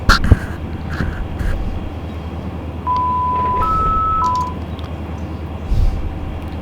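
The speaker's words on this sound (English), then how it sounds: "sound you just heard is the alerter." A locomotive alerter sounds inside the train cab, a steady electronic warning tone that steps up in pitch and then drops back, heard over the low rumble and rattle of the moving engine.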